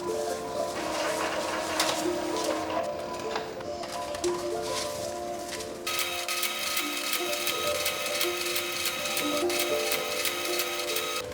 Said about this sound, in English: printing on the envelopes